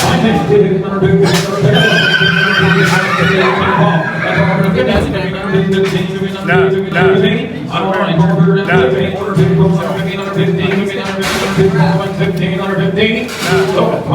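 At a horse auction, a horse neighs and whinnies loudly and repeatedly, close by, amid the murmur of the sale while people talk nearby.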